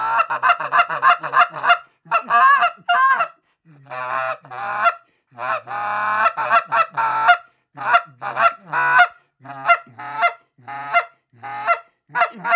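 Canada geese honk repeatedly during a hunt in Canada, a loud, close flock with dense bursts of overlapping calls separated by short pauses.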